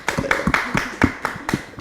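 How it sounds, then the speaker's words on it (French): Short burst of audience clapping on a French-language talk show about women's leadership, a quick, fairly regular patter of close hand claps lasting under two seconds. "on l'applaudit quand même."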